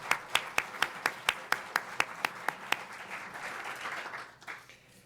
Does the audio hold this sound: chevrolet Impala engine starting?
no